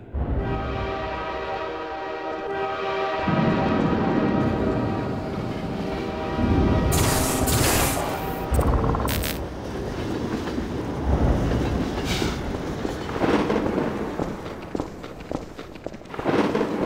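A train rumbles past in the Half-Life 2: Episode One video game, loud and close, with a horn blast near the start, a continuous clattering roll, and sharp metallic bangs and clanks throughout.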